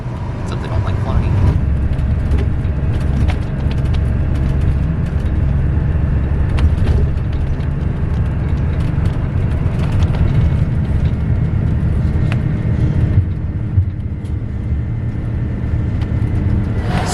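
Low, steady road rumble from inside a bus crossing the Bay Bridge toward San Francisco, a constant engine and tire drone lasting the whole ride, with a voice talking over it.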